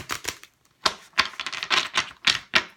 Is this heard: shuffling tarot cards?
yes